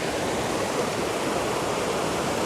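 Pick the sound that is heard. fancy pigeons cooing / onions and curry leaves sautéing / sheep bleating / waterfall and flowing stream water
waterfall and flowing stream water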